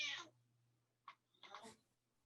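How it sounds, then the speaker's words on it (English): Cat meowing faintly in the background during an online astronomy talk, a drawn-out cry followed by a short call and another longer meow, with a low steady hum underneath. "somebody has a cat."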